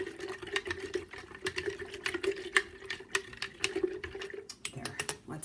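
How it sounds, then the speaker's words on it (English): A chopstick stirs water kefir vigorously in a jar, giving rapid, irregular clinks and swishing taps against the glass, steady and fairly quiet throughout. "I'm going to take a chopstick and I'm going to stir it"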